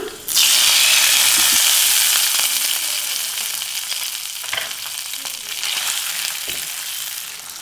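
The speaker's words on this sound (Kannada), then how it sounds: "ಈ ಒಗ್ಗರಣೆನ ಇದಕ್ಕೆ ಹಾಕ್ಕೊಂಡ್ಬಿಡೋಣ." Ghee tempering with cashews tipped into a pot of palak dal, erupting in a loud, dense sizzle that starts suddenly and keeps crackling steadily, with a few clinks of the pan, and no talking.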